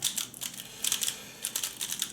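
Rapid plastic clicking and clacking from a 3x3 Rubik's cube being scrambled, turned quickly in bursts with short pauses, close and fairly quiet, with no talking.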